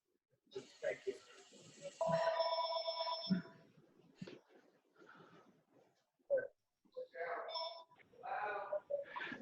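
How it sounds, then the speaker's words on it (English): A telephone rings in a board meeting, its bell bursts sounding between stretches of nearby talk and clatter. "Could you, Howard, tell him to pick up the phone, please?"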